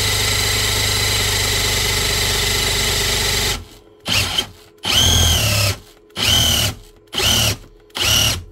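A Hikoki or Ruko electric drill driving an earth electrode rod into the ground: a loud, steady grinding run, then a series of short bursts separated by brief pauses, with no talking.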